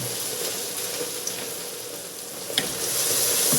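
Fennel browning on a plancha griddle outdoors gives off a constant close, even sizzle with a couple of small clicks and no talk.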